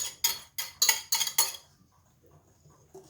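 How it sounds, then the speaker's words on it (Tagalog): A utensil clinks and scrapes against a bowl as butter is stirred into puto batter, five quick strokes in a row, then faint scraping. "haluin lang natin"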